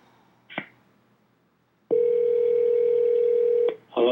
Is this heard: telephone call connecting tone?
yes